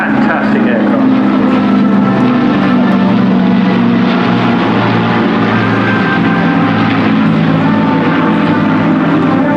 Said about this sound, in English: But leading the formation in the Dakota, Flight Lieutenant Seth Davey